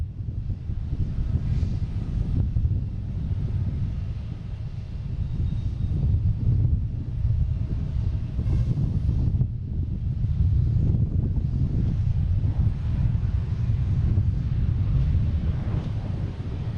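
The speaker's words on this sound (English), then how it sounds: "coming in next is Copa Airlines, coming in from Panama City. 737 MAX 9, landing on 4 right." A Copa Airlines Boeing 737 MAX 9 landing at Boston Logan, a loud, continuous low engine roar with wind buffeting, swelling and easing slightly over the whole stretch, no voices.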